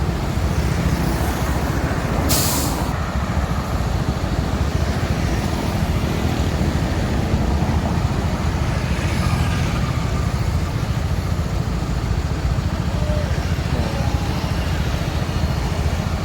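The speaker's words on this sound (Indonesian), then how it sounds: "Nah, ini bus pariwisata ya" Steady road traffic rumbles throughout as a large tour bus passes, with a low continuous engine drone and hiss and no clear talking.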